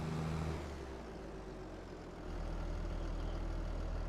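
Tractor engine from the Farming Simulator 22 game runs steadily at a low, heavy drone, holding an even level, dipping slightly mid-way, then rising again with a rougher rumble.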